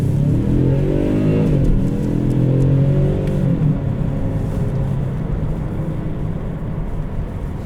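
A 2019 Genesis G70 2.0T Elite with its 2-liter turbocharged four revs up loudly close by, the engine note climbing and then settling into a steady, strong drone.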